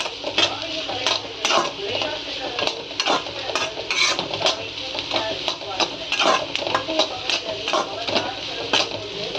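Vegetables with capsicum stir-fried on full flame for fried rice, with loud, close, rhythmic scraping and clanking of a spatula against the pan over a steady sizzle, no voices.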